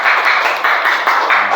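A classroom of students claps hands together in rhythmic bursts, a bright, dense patter of many palms pulsing in quick repeated waves, close and fairly loud.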